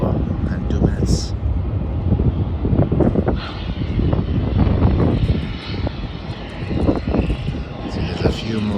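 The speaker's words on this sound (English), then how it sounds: "there's a flight from Sydney to Melbourne that's going to be landing shortly" A passenger airliner on the Sydney to Melbourne route comes in to land at Melbourne Airport, its engines producing a loud, sustained roar with gusty wind buffeting the microphone.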